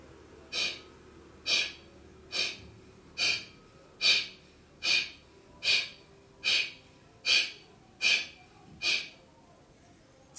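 Pranayama breathing practice with forceful exhalations as the belly is pulled in, about a dozen sharp, evenly spaced nasal breaths close to the mic, each a short hissing burst in a steady rhythm with no talking.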